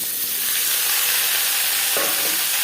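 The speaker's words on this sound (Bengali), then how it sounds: "চিচিঙ্গা হালকা করে ভেজে নেব দিয়ে দিয়েছি এক চামচ রিফাইন্ড অয়েল এবার দিয়ে দেবো চিচিঙ্গা" Diced ridge gourd frying in refined oil makes a loud, dense, continuous sizzle close up, with a brief sharper burst near the end and no speech.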